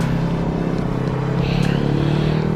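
An Infiniti G37 fitted with an Exotic Speed exhaust and no test pipe, giving a loud, steady, deep rumble from close by.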